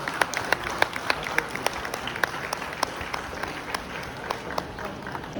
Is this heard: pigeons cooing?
no